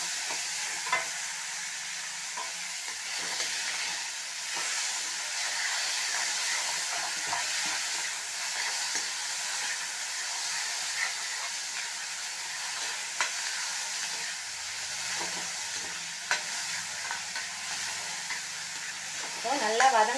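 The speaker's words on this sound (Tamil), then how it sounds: "நல்லா வதங்கட்டும்." Green chili, tomato, curry leaves and coriander sauté in a pan for a masala filling, giving a soft, continuous sizzle with occasional stirring scrapes throughout.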